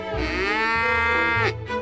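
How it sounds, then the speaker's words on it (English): A Dexter cow, a miniature Irish cattle breed, gives a loud, close, drawn-out moo that rises in pitch and then breaks off near the end, heard alone. "a miniature Irish breed, which when fully grown are still only half the size of a normal cow"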